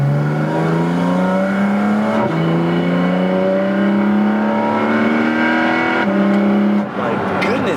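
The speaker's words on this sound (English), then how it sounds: "So you get that engine noise like right in the cabin." A Porsche GT4 RS engine roars loudly inside the cabin, with its intake running through the car. The revs climb steadily, with quick gear changes punctuating the wail as the pitch drops and builds again.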